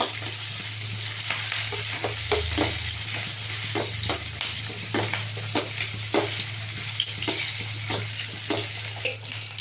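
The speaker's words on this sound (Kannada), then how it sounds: "ಇದು ಮುಕ್ಕಾಲು ಭಾಗ ಫ್ರೈ ಆಗಿದೆ" Small tender eggplant pieces fry in a pan for an eggplant gravy, with a constant sizzle under a low hum and repeated scraping stirs every second or so, near and fairly loud, with no talking.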